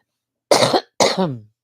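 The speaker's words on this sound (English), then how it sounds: "I'm gonna cough again" Two harsh, close coughs from pollen irritation, one right after the other, with a brief pause between, then silence.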